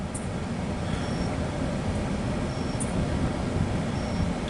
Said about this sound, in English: So, perfect timing for this train.